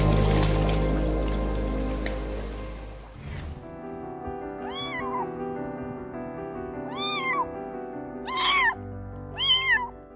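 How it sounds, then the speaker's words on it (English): A small homeless kitten cries loudly for help with four plaintive, spaced-out meows. They come after a few seconds of loud rushing noise and sit over a soft, steady tonal background. "this little homeless kitten loudly cried for help"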